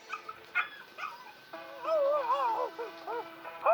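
A dog in a cage gives a few short yips, then a sustained whining, howling bark with wavering pitch, close and fairly loud, with some sound mixed in early on.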